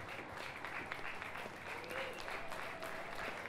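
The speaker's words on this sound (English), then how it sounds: "You have earned the applause." A talent show audience applauds steadily, a dense wash of many hands clapping that holds at an even level throughout.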